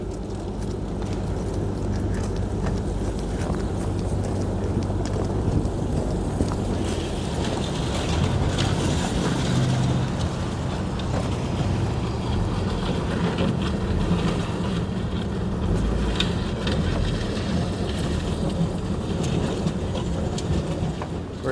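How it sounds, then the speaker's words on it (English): A rebuilt barn-find Yamaha SRV 540 snowmobile idles outdoors with its clutch spinning, a steady low mechanical drone with wind rumble, moderately close and unchanging throughout. "You can hear the clutch spinning."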